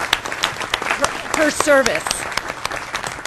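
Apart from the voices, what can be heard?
audience applause at a board meeting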